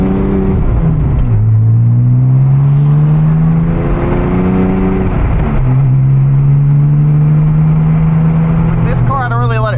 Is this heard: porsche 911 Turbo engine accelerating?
yes